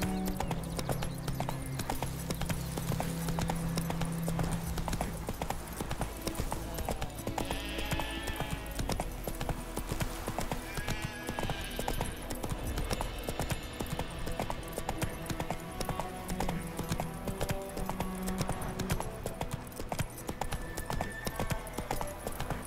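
Hooves of a horse clip-clop steadily in The Witcher 3: Wild Hunt, a constant rhythmic trot heard alongside game music and ambience, with occasional snorts.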